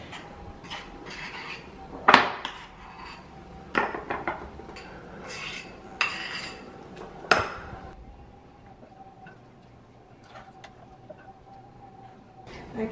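A small spoon being gripped and handled during a third birthday party, giving a few sharp clinks and scrapes against dishes amid soft rustling, with quiet gaps between the knocks.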